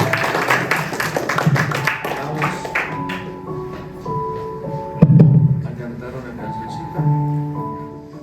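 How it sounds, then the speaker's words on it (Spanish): A church congregation claps in praise to the Lord, quick clustered claps early on over sustained musical tones, with a voice speaking through and a louder burst midway before the clapping fades under the music. "Dele un aplauso al Señor"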